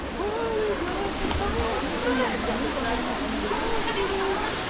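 Cambugahay Falls in Siquijor rushes in a loud, steady broadband roar, close by, with people talking over the water.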